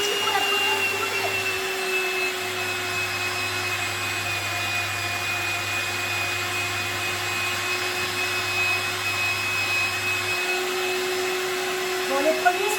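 A very old spritz biscuit machine runs noisily while pressing out a first batch of cookies, giving a steady, loud motor whine and hum that continues without a break, with a faint low rumble that briefly drops out twice.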